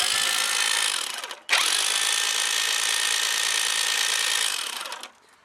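M134 minigun replica barrels spinning with an internal noise-maker make a steady, high mechanical whir. The whir cuts out briefly, spins straight back up, holds its pitch, then winds down at the end.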